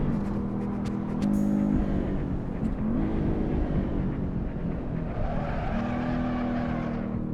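A Porsche 914 race car engine drones loudly at full throttle on a track, steady and strained with faint tire squeal as it slides through a corner, no voices present.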